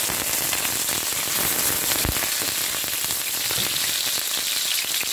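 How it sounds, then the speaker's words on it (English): Red onions sauté over medium heat in a pan, giving a steady, loud crackling sizzle that keeps going through the whole stretch without talk. "I'm going to saute that using my red onions"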